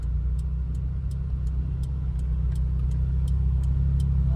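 A 1989 Toyota Corolla with a 1.5-litre fuel-injected engine drives on a real road. Its engine and road noise give a steady, continuous low rumble, with faint regular ticking on top.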